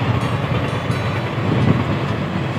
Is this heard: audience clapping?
no